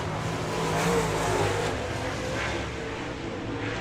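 Several dirt track race car engines roar continuously at a distance, droning steadily as the cars circle the track through a turn, with crowd and public-address noise underneath, at Victory Lane Speedway, Manitoba, Canada.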